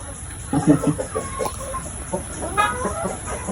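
A dark mahogany heritage chicken clucks close by in a series of short, irregular clucks, with soft farmyard background.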